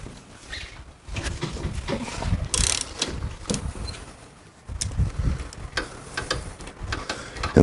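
Socket on a shortened Allen wrench loosening the wheel lug bolts on a Panhead motorcycle, with repeated metallic ratcheting clicks and clanks in uneven bursts and brief pauses, close by.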